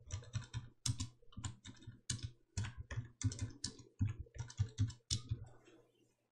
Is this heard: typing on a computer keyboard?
yes